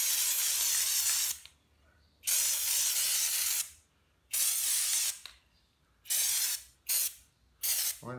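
Cleaner and water spray onto a Harley-Davidson Screaming Eagle air filter in loud, close hissing bursts, five or six of them of varying length separated by short pauses.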